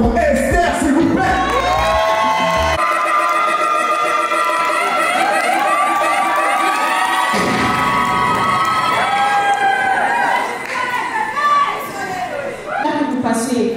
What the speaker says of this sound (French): est-ce qu'on peut faire un tonnerre d'applaudissements pour Esther, s'il vous plaît?